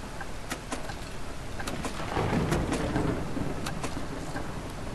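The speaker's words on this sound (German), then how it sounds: "Alter, voll am Gewittern gerade, ne?" A thunderstorm in the bus-driving game Bus Simulator 21 brings a steady wash of rain with a low rolling rumble of thunder swelling in the middle and sharp intermittent ticks over the top.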